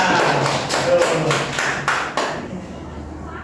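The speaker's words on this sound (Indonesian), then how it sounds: "Tepuk tangan sama-sama." Classroom applause after a student presentation in a micro-teaching lesson, a burst of close, lively clapping from a small group that thins out and stops after about two seconds, leaving quiet room tone.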